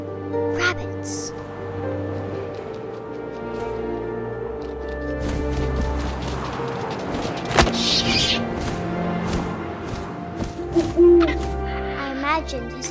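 An owl hoots in the video game What Remains of Edith Finch, a few soft hoots over a layered musical and ambient game soundscape, with a voice talking throughout.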